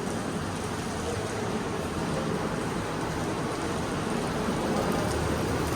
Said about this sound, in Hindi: जब होटल के बाहर आए तो देखा तो बारिश हो रही है